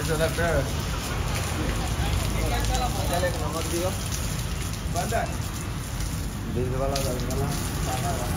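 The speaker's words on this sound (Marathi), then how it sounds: "गाडीवर पाणी मारायला घेतला होता." Water sprayed over a vehicle during a wash, a dense, steady hiss and patter like heavy rain hitting a surface, while voices talk over it at intervals.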